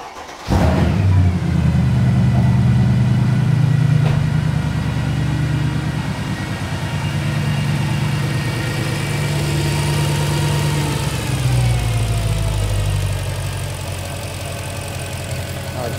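A Mercedes C63 AMG Black Series engine cranks and fires just after the start, then settles into a loud, steady idle close by, with a slight dip in revs near the end.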